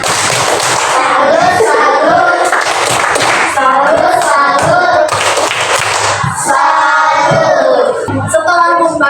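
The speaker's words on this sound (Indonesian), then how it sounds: "Tepuk salut." A classroom of students doing the 'tepuk salut' rhythmic group clap, with patterned bursts of clapping mixed with chanting voices, close and loud throughout.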